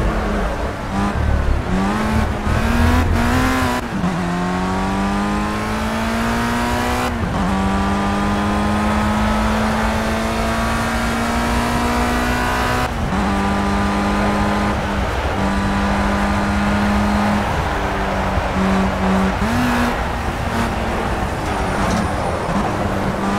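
Race car engine in the racing game Project CARS, a loud continuous whine climbing in pitch through repeated gear changes on a final lap, staying close and steady throughout with no talk over it.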